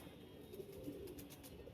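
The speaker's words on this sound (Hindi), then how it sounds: "दोनों नर मादा सेम पर का कबूतर है" Pigeons coo softly nearby in low, repeated throaty calls, faint and steady against a quiet background hiss.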